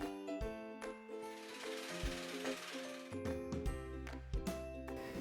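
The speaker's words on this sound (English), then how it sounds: "Bolt down the bumper using all the mounting hardware supplied in the kit." A ratchet tightens bolts on a Jeep JK bumper during installation, its rapid mechanical clicking running steadily and fairly close against a bed of tonal background music.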